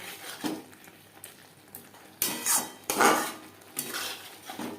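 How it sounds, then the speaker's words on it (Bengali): A utensil stirs fried pointed gourd with spices in a pan over high flame, giving several scraping, clattering bursts of metal on the pan. Soft sizzling comes through between the strokes. "মশলার সাথে পটল বেশ ভালো করে মিক্স করে দেব।"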